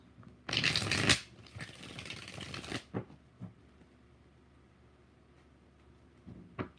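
Tarot cards shuffled by hand: a loud, close riffle burst, a second longer rustling shuffle, then several soft taps as the deck is squared, fading into quiet.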